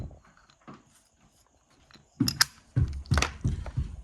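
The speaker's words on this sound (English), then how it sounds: "Let's play with the white dice so you can see it." White dice tumble across the felt of a modified Crisloid backgammon board with felt bumpers. After a quiet start, there are two bursts of close, muffled clattering and knocking as the dice roll and settle.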